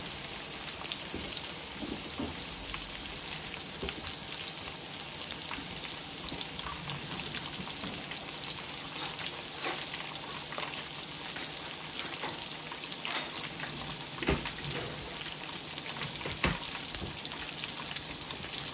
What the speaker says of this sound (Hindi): ये अब हम इन्हें करते हैं फ्राई।